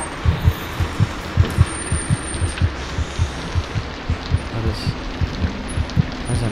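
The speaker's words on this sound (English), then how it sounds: "why is my heart beating like this?" A steady, thumping heartbeat from the horror video game Among the Sleep, its low double pulses repeating in an even rhythm throughout over a faint background hum.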